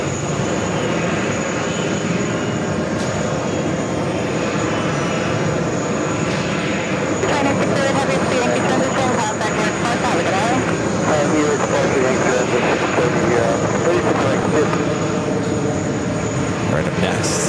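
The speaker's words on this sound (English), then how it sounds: "This 777 freighter heading to Anchorage, rolling down at runway 3, 1 left." A Boeing 777 freighter bound for Anchorage roars down runway 31 Left at JFK, its engines building into a loud, sustained rumble and whine that swells midway, with a voice commenting over it.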